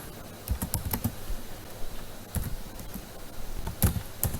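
Steady typing on a computer keyboard while a PowerPoint slide is edited: a quick, uneven run of close key clicks with a few louder taps, and no voice.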